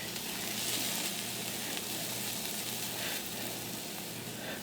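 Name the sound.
food sizzling as it starts to cook for breakfast tacos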